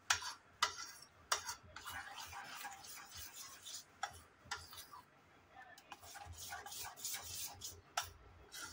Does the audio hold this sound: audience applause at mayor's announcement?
no